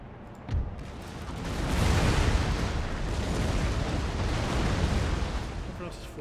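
Artillery in Empire: Total War unleashes counter-battery fire, a dense, rolling barrage of booms and rumbling blasts that swells after a sharp opening crack and stays heavy and continuous for several seconds.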